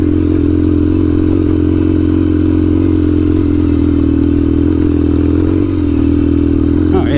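A Kawasaki KZ750 Scrambler motorcycle labors up a steep, loose gravel hill, its engine droning loud and steady throughout, with a rattling clatter from the bike and the loose surface underneath.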